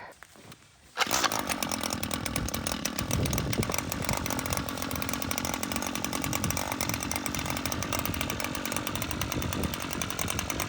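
A computerized chainsaw, normally a three-pull starter, catches after a short, quiet start and then runs continuously as a loud, close, buzzing engine roar.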